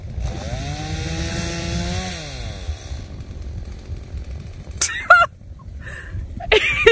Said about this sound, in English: Men and chainsaws.